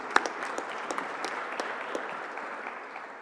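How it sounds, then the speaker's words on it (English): Faint, distant applause from a conference audience after a panel discussion, a soft wash of clapping with a few sharper individual claps standing out. "so please applause to him."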